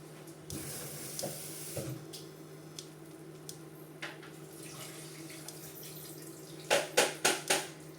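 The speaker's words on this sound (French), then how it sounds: "J'égoutte mon riz." Water from a pot of cooked rice pours out through a strainer into a sink in a home kitchen, with brief splashes and clinks of cookware followed by a few louder gushes near the end.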